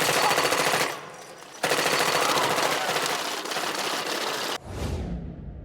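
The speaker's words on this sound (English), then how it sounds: "The sound of machine gun fire from Tony Montana's little friend turning into the sound of the money counting machine" Machine gun fire from the Scarface scene shown in Breaking Bad rattles in long, rapid, loud bursts broken by a short pause, ending with a lower thud.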